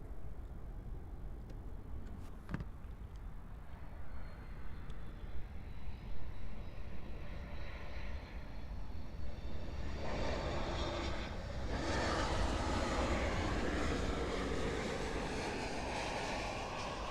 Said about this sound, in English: the next arrival is American Airlines Flight 2024 arriving in from Austin, Texas. It's a Boeing 737 MAX 8.